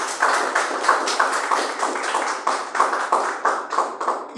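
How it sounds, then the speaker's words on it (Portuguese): A church congregation claps in unison in a quick, regular rhythm, loud and close, each beat landing crisply one after another. "Palmas para Jesus"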